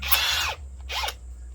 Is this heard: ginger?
no